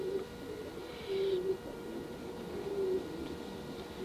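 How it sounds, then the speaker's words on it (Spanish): A pair of pouter pigeons sitting on their nest, cooing softly in low, drawn-out coos that repeat a few times against a quiet background. "ahí tengo una pareja de palomas"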